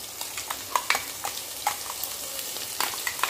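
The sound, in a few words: ground spice paste frying in oil on low flame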